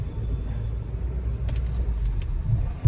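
Royal Enfield Bullet motorcycle rumbling steadily while being ridden, a continuous low engine drone with road noise and a few brief clicks and rattles near the end, no voices.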